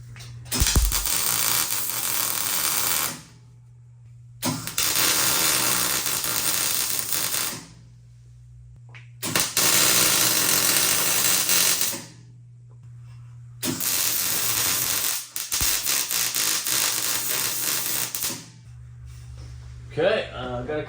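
An arc welder tack welds an exhaust pipe in four long, loud crackling bursts of about three to five seconds each, separated by brief pauses with a low steady hum.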